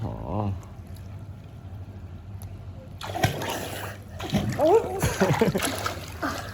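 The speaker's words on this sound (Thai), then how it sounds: "ยายก็อยากเห็นว่าเล็กเล่นน้ำที่ไหนบ้าง" A child playing in water, with splashing and sloshing that starts partway through and comes in irregular bursts, fairly close, mixed with adults' and children's voices talking.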